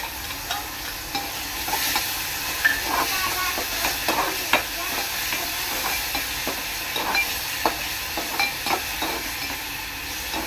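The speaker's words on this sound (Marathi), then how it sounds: "तर कांदा टोमॅटो पेस्ट चांगली शिजवून घेणार आहे।" Onion and tomato paste fries and is stirred in a pot for an Agri-Koli style baby fish fried rice. A continuous hissing sizzle carries sharp scraping taps of a spoon at an uneven rhythm, up close and without speech.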